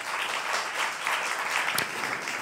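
A congregation claps during a Saturday church worship service, a steady wash of many hands at moderate volume with one sharper clap standing out near the end.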